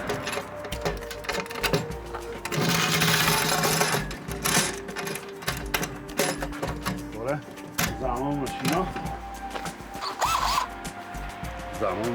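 Sewing machine stitching in steady runs with short pauses between, a buzzing mechanical whir close by while a person talks over it.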